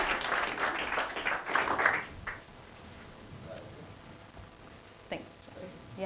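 Conference audience applause, a burst of clapping from the crowd for about two seconds that quickly fades into quiet room noise with a few scattered claps and faint movement.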